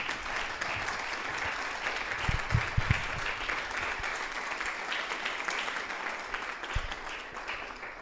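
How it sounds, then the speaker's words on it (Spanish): Audience applause at a jazz encyclopedia book launch in Puebla, honoring a conductor: steady, dense clapping from a crowd that holds for about eight seconds, with a few louder close claps midway. "Fuerte el aplauso para él."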